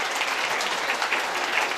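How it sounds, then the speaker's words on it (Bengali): An audience at a garment factory's cultural function applauds the special guest, a dense, steady wash of many hands clapping at once, loud and continuous throughout. "বিশেষ অতিথি মোহাম্মদ মহসিন স্যারের জন্য জোরে একটি হাততালি হবে।"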